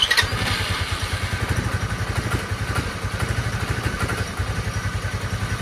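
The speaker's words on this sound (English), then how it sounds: "Starts up fine, but it seems like it's on choke after a warm-up." A cheap Chinese motorcycle engine runs after starting, its steady low rhythmic putter close and loud with some mechanical clatter, seemingly stuck on choke after warm-up.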